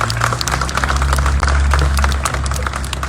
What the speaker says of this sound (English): Governor Mike and Teresa Carson, please, let's give a round of applause